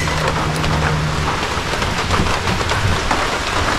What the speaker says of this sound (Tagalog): Ayan, ulan din.